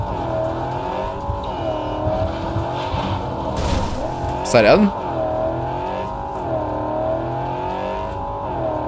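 A car in the video game Cyberpunk 2077 pulls away with a steady engine drone and a brief tire squeal partway through, while a person talks over the driving.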